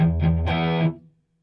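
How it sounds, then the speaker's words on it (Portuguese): A single distorted electric guitar chord through a Marshall JCM800 amp simulation rings out loud and thick, then cuts off and fades quickly to silence. "Eu tenho a simulação do Marshall JCM800, que é a minha distorção principal, que tem esse som"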